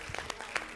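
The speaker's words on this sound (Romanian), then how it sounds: "Aici trebuie să fie aplauze, cu siguranță." Scattered hand clapping from an audience at a dance show, brief and fairly faint, a few uneven claps over roughly a second.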